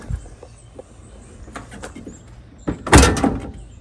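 A car door on a Civic fitted with new fenders swings shut with a sharp, loud, close thud near the end, preceded by quieter clicks and handling sounds, with no speech.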